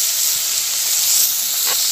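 Prawns frying in hot oil in a wok (kadai) make a steady, close hiss that holds evenly throughout, with no talking over it.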